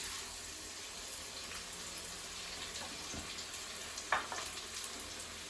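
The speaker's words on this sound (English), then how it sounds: "And now you fry the onions." Onions frying in hot oil in a pan for a prawn and cabbage dish, a steady low sizzle throughout with a brief stir or clatter near the end.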